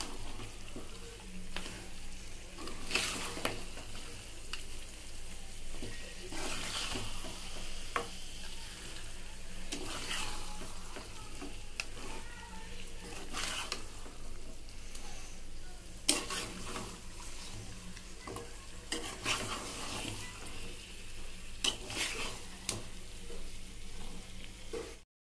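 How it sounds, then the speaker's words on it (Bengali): Mutton coated in ground coriander and cumin paste sautés in a pan for dahi mutton curry, giving a continuous close sizzle broken by repeated scraping stirs. "মশলাটাকে দিয়ে খুব ভালো মতো কষিয়ে নিতে হবে।"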